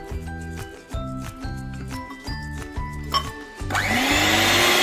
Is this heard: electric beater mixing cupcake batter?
yes